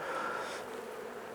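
Honey bees in an open Langstroth hive during an inspection give a steady, close, even drone of buzzing with no talk over it.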